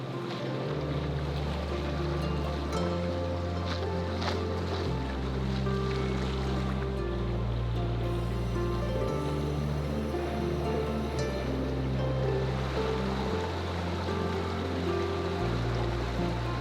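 A sailboat motoring in over shallow water with its sail being dropped: a steady low engine drone with a rhythmic pulsing throb runs throughout, under continuous wash of waves and water against the hull, with no talking.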